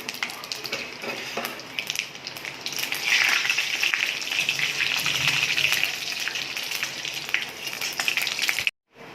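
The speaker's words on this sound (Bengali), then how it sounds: "তেল গরম হয়ে গেছে, শুকনো লঙ্কা, তেজপাতা, পাঁচফোড়ন" Dried red chillies, bay leaf and panch phoron crackle and sizzle in hot oil for an Indian curry, a steady bright frying hiss that swells in the middle, close and alone, ending with a brief dropout.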